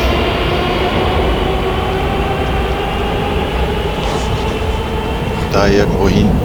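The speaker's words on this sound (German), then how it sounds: "da kommen alle 3, 4 Minuten kommt eine neue Metro" A Moscow metro train roars steadily from inside the car, a constant loud rumble of wheels and motor with faint squeals near the end, and a voice speaking briefly over the din.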